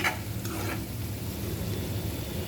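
Chopped onion softening in hot oil with a pinch of salt, a soft, even sizzle with a couple of light stirring scrapes early on, fairly quiet and without speech.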